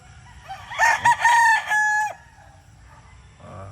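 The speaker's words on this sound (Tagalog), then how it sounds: "Daming manok o." A rooster crows once, loud and nearby, its call rising and falling before cutting off, followed by quieter clucking.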